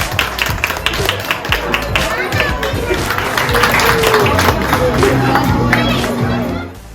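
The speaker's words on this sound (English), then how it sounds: "she did get a couple nice rounds of applause" A crowd at Lake Compounce amusement park applauds and cheers for a roller coaster rider, with scattered claps and mixed voices in a busy, lively outdoor scene, and the noise stays steady before cutting off.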